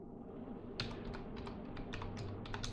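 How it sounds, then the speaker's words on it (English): Rapid typing on a computer keyboard while entering a command, with a steady run of distinct close key clicks over a low background hum. "all we need to do is type in this command"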